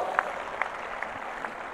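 A large crowd at an outdoor Maratha rally led by Manoj Jarange Patil in Nevasa claps together to approve a resolution, a dense steady wash of distant applause with a few sharper claps standing out.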